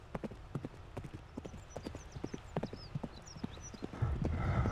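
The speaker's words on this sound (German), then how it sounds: "Ja, hör auf so zu schnaufen" A horse in a horse-riding video game trots with rhythmic, close clip-clopping hooves and a soft whinny, then gives a breathy, noisy snort at the end.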